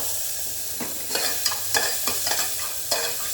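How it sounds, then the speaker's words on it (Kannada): Onion and tomato stirred and frying in a pan for pasta, giving a constant loud sizzle with repeated scraping strokes of the spoon, close by and with no talking. "ಇದಕ್ಕೆ ಈರುಳ್ಳಿ ಮತ್ತೆ ಟೊಮ್ಯಾಟೋನ ಹಾಕಿ ಇವಾಗ ಇದನ್ನ ಮಿಕ್ಸ್ ಮಾಡ್ಕೊಳ್ಬೇಕು"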